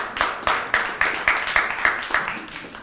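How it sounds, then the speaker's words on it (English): A morning audience at a live body language show claps in a steady, fairly sparse rhythm, each sharp hand clap distinct and close, with roughly ten claps spread evenly across a few seconds. "Give yourselves a round of applause for being here this morning"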